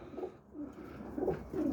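Pigeon cooing in soft, low repeated phrases, a few throaty coos spaced across the moment at moderate distance, with no talking over them.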